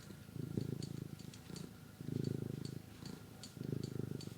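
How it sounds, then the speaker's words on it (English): A cat purring up close, a steady rumbling purr that swells and fades in long, even cycles with each breath, quiet and alone without any talk. "Can you hear her purring?"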